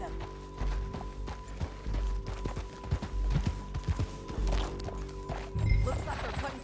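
Horse hooves clip-clopping in Red Dead Redemption 2, a steady galloping patter of hoofbeats on open ground with occasional heavier thuds, mid-distance, over a constant low rumble of game ambience.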